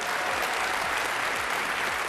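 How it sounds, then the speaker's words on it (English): Audience applause at a Starfield Direct game presentation, a steady dense wash of clapping from a large crowd that holds at a constant loud level throughout, with no voices on top. "Applause break number 1."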